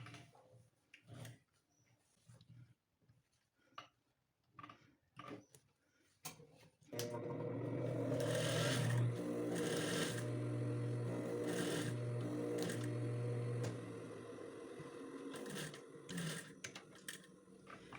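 Sewing machine stitching a blazer welt pocket, starting after several seconds of light clicks and fabric handling, then running steadily and close for about six seconds before slowing into short bursts.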